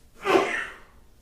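A single sharp sneeze-like burst of breath, close and fairly loud, rising quickly and trailing off over about a second.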